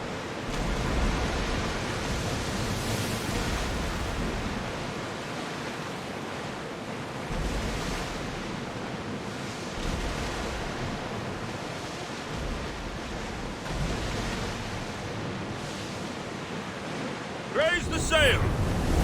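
A rowed ship pushing through ocean waves in Assassin's Creed Odyssey: a continuous, broad rush of surf and wind washing close and loud, swelling and easing in slow surges, with a brief clattering knock near the end.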